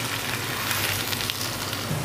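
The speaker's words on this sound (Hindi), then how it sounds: "मैंने जो घी के अंदर ये फ्राई कर रहा हूँ चिकन को" Chicken frying in ghee for a white chicken korma, a steady, loud, close sizzle with dense crackling hiss throughout and no voices.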